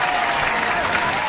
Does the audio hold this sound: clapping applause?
yes